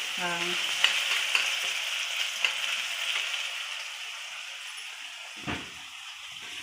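Tomatoes fry in a pan of hot oil, making a steady, close sizzle with a few light stirring clicks. The sizzle softens gradually, and there is no talking over it.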